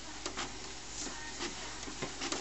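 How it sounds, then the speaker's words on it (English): An HP Photosmart D5160 inkjet printer runs through a print job, with a steady mechanical whir broken by repeated clicks and ticks from the carriage, heard up close. "You can see it's printing perfect pictures."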